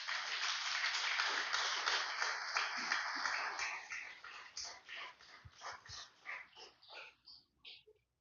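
Church congregation applauding during a Spanish-language worship service: loud, dense clapping mixed with whoops and yelps at first, then thinning into scattered claps and shouts before fading out.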